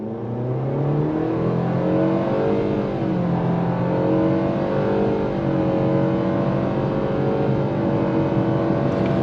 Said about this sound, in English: I'm gonna go on throttle real quick just to show you the acceleration and the grip